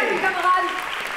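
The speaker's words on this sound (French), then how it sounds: "Applaudissez-la." Steady clapping from a group, continuous and moderately loud throughout, with a murmur of voices mixed in.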